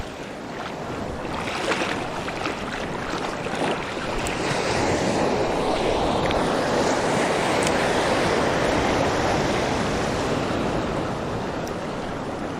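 Sea waves at high tide wash steadily at a coastal fishing spot, a continuous rushing surf with wind buffeting the microphone, swelling slightly toward the middle and with no voices.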